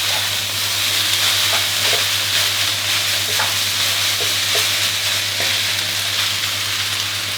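Fresh yakisoba noodles stir-fried with a spatula, a loud continuous sizzle with intermittent scraping strokes across the pan, steady throughout with no talking and a low electrical hum underneath.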